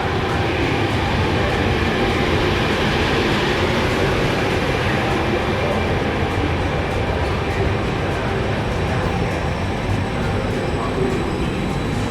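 A Trenitalia InterCity long-distance passenger train rumbles steadily along the tracks in a dense, continuous roar that stays loud and close throughout.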